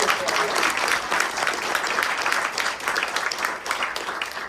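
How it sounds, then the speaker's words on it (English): Lively audience applause at an improv comedy show at The Second City, dense continuous clapping from a crowd, close and loud, with some cheering mixed into the steady rhythm. "Give a round of applause for the"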